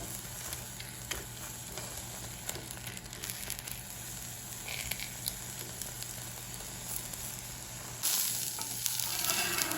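An uthappam fries on a hot pan in a soft, steady sizzle with faint crackles, growing a little louder and brighter near the end.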